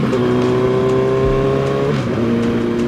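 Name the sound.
2008 Suzuki Hayabusa motorcycle engine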